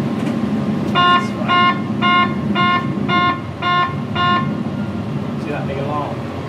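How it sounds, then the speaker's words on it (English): A loud electronic takeoff configuration warning horn beeps in a steady rhythm, about seven evenly spaced tones, in a Boeing 737NG flight simulator cockpit, with engine noise and a voice talking alongside. "See that big alarm? That's what's called a takeoff configuration."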